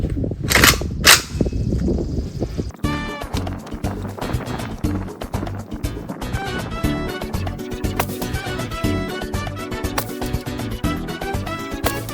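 AKS-74U (Krink) rifle fired outdoors with what appears to be Russian military ammunition: two sharp, loud gunshots close together near the start, followed by a long stretch of busy music-like sound.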